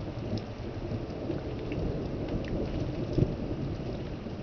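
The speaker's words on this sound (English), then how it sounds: "And we have thunder." Thunder rumbles through steady rain during a 2007 Oklahoma ice storm, a low continuous roll with one sharper crack near the end, over constant patter of precipitation.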